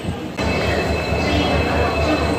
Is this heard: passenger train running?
yes